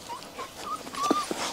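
A Rottweiler puppy whimpers in a series of short, thin, high whines, close and soft, with faint rustling between them.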